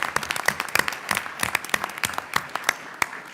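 A small audience at a board meeting claps, with sparse individual hand claps sharply audible, irregular and close, rather than a dense roar.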